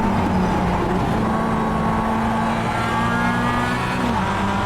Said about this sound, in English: we're in the Mazdas in the production car challenge, so mixed class race here around Bathurst